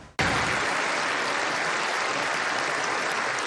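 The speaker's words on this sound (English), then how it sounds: "A round of applause from the U.S. Congress" Sustained applause from members of the U.S. Congress for Ukrainian President Volodymyr Zelensky's live-streamed address, a dense, steady roar of clapping that starts abruptly and continues loud and unbroken throughout.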